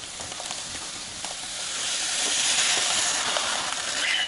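Grain is poured into a pot of boiling water while brewing a Blanche de Louche style beer, producing a steady rising hiss and sizzle that grows slightly louder over several seconds without any talking.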